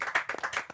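At a panel discussion about the Gujarati film Laalo, a small group briefly claps for Reeva Rach in a short, uneven burst of several claps, fairly quiet and close.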